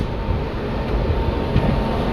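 The Saurashtra Janata train passes the platform at Bhaktinagar railway station, a loud, steady low rumble of wheels and carriages heard up close with no talking.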